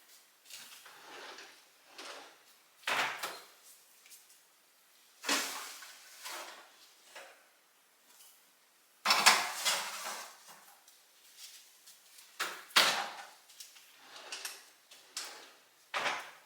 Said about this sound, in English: I'm going to go ahead and take these out of the oven.